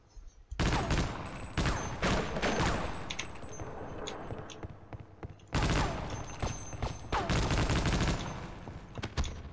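Bursts of rapid gunfire from the video game Half-Life: Opposing Force crackle loudly in two long volleys, with scattered single shots between them.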